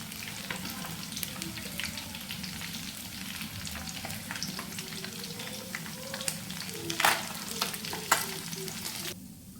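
Fish pieces fry in hot oil with a continuous crackling sizzle, with spoon or strainer clinks and scrapes as pieces are lifted out; a faint voice murmurs briefly underneath.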